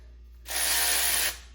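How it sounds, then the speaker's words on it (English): A Snap-on 3/8-inch cordless ratchet spins in one steady, loud burst of under a second, a bright whirring buzz with no voices. "I definitely recommend getting one of these snap-on 3/8 cordless ratchets"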